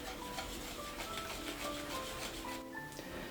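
A spoon stirs a thick flour-and-milk batter in a bowl, giving a steady, close, soft rubbing and scraping with no talking.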